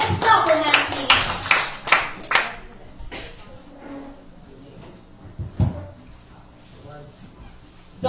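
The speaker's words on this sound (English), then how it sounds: "Let's clap for him, please." Students applauding for a speaker in a Grade 10 English class debate: a short burst of close hand clapping that tapers off over a few seconds, followed by quiet classroom murmur.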